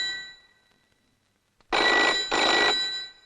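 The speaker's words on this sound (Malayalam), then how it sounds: "ഫോൺ ബെല്ലടിച്ചു." A telephone bell rings loudly in two close, sustained bursts after a near-silent pause, with no voices.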